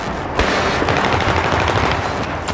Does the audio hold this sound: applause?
no